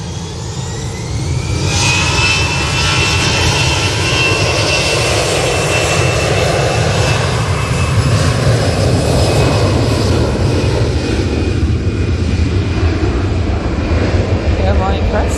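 A jet airliner departs Manchester Airport bound for Dalaman, its engines building into a loud, sustained roar with a rising whine that holds steady, while people talk underneath.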